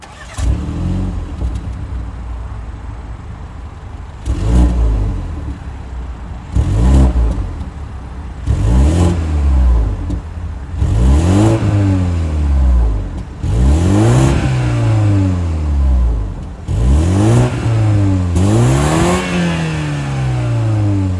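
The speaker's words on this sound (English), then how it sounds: "that was the sound of the 2-liter twin-scroll turbo 4-cylinder sold by BMW for the 2023" A 2023 BMW 230i coupe's 2-liter twin-scroll turbo four-cylinder engine is blipped repeatedly, with about eight separate revs rising and falling over a steady idle, each swelling to a throaty peak before settling back down.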